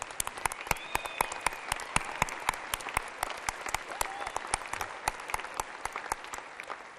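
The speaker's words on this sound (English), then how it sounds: "give a round of applause to everyone in this room who has taught them to be better citizens" Audience applause fills a commencement ceremony room, a steady dense wash of many hands with sharp individual claps standing out throughout, fairly close and sustained for the whole stretch without talk.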